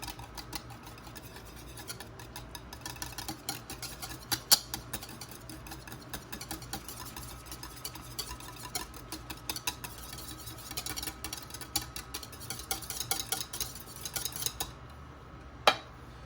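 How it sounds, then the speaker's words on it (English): Egg whites being whipped in a bowl for homemade ranch dressing: a steady run of fast clinking utensil strokes against the bowl that goes on throughout, with one louder clank near the end and no talk. "Now we're gonna give this a good whipping."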